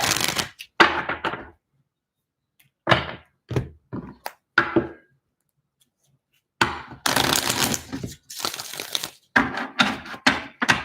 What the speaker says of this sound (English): That was a really smooth shuffle.